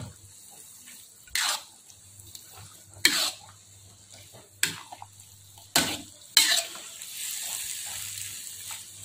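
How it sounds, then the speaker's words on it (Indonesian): Pounded cassava leaves with rimbang stirred in a pan for gulai, several separate scraping, splashy stirring strokes spaced a second or two apart over a low background, close by. "Kita aduk rata."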